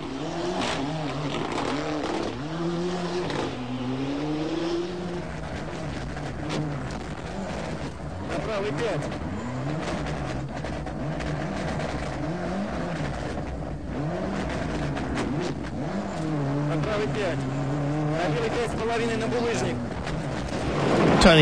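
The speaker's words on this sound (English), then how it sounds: "Gardemeister was once again second fastest, enjoying himself as he went through the stage sideways in the approved Finnish style." A rally car slides sideways through a gravel stage at Rally Poland, its engine revving up and down in repeated surges as it works through the corners, loud and fairly close.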